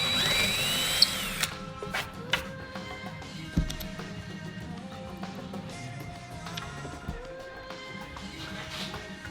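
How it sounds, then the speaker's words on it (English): A power drill bores oversized holes into a wooden coffee table, running in steady whirring stretches broken by several sharp taps and knocks, moderately close in a quiet workshop. "Drilling the holes oversized would allow the main panel and the feet to move around"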